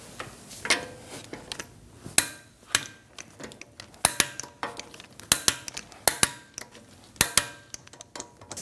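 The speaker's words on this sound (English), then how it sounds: "let's torque our lug bolts to 103 foot-pounds in a star form pattern" A torque wrench tightens the lug bolts on an Audi Q5 wheel, giving a series of sharp metallic clicks and ratchet snaps in irregular bursts, close and fairly quiet with no talking.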